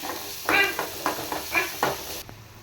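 Bread snack frying in a pan is stirred with a utensil, giving four or five distinct scraping strokes over a light sizzle, moderately close, with no voices.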